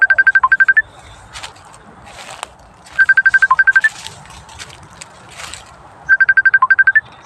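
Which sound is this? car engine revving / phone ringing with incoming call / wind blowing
phone ringing with incoming call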